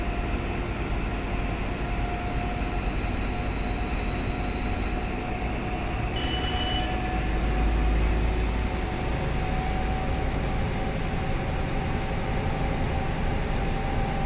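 A Valenta-engined HST train in Train Simulator Classic, with a steady, loud engine drone and rolling rail noise continuing evenly throughout, plus a brief whistle-like tone partway through.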